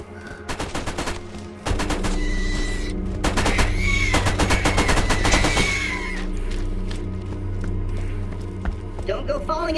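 A Borderlands turret opens up with loud, rapid automatic gunfire in dense sustained bursts, backed by a low rumble and brief pauses, with voices heard alongside.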